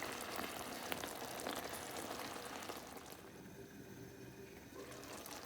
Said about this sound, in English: Mushroom bhajees simmering away.